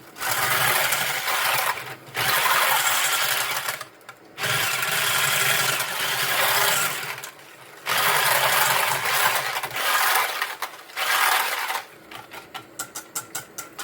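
An electric mixer whirs at its lowest speed through pancake batter in loud, steady bursts separated by brief pauses, ending in a run of quick mechanical clicks.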